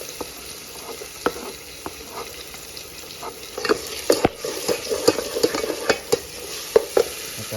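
Garlic fries and crackles in a pan for Chicken Parmesan, a steady close sizzle broken by scattered clicks and scrapes of stirring that grow busier toward the end, with no voices.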